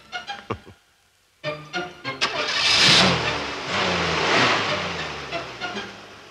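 A car with a faulty silencer cranks a few times, then starts and revs into a loud, rough, sustained roar that rises and falls close by.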